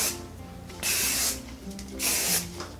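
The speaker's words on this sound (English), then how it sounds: "And just spray your hair" Two bursts of hairspray hiss from a nearby aerosol can, each about half a second long, over a soft background hum.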